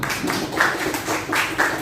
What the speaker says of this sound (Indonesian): tepuk tangan buat Arum.